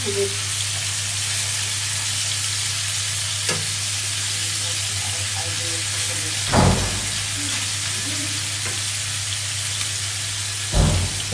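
Chicken fries in a wok with a continuous close hiss and crackle of hot oil, broken by a few louder clanks of a utensil stirring against the pan.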